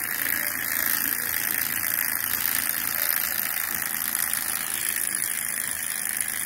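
A small, newly built model Stirling engine of traditional construction runs on its own, giving a steady, even mechanical whirr with a fine rapid rattle and no voices.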